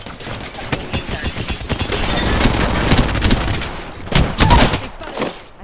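Rapid automatic gunfire from the battle royale shooter Apex Legends crackles in dense, loud bursts, with sharp individual shots and a heavier flurry near the end.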